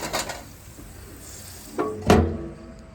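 Chicken wings being flipped on a Flame Thrower grill: a few light clanks and thunks of tongs against the grate, with a sharper metallic knock near the end, over faint background noise.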